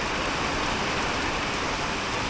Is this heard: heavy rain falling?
yes